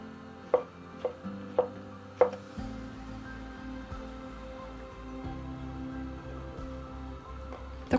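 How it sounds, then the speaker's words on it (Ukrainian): Several crisp knife strikes on a cutting board, chopping mushrooms into rough pieces in an uneven rhythm, fairly quiet, over a steady background hum. "Гриби я нарізаю на довільні шматки будь-якого розміру."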